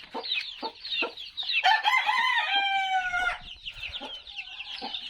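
Farm hens cluck in short, repeated bursts, then a rooster crows a long drawn-out call nearby before the clucking resumes.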